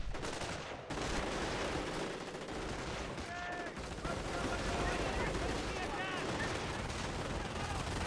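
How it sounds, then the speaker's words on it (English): German MG42 machine gun firing in Company of Heroes, heard as a steady, dense stream of gunfire with other battle noise and a caster's voice talking over it. "MG42 firing away."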